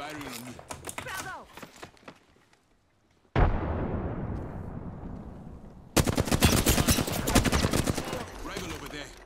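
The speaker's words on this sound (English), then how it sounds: "They're firing on me." Gunfire in the video game Apex Legends, with rapid automatic bursts, a sharp blast that decays into a hiss, then a dense stretch of loud repeated shots. Game audio plays throughout.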